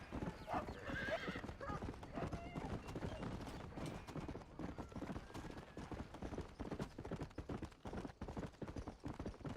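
Horse hooves clip-clop steadily in the video game Red Dead Redemption, with a brisk, continuous rhythm, a whinny and faint background game sounds.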